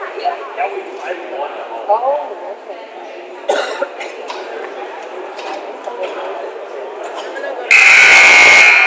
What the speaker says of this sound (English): The buzzer sounds as we have hit zeros on the clock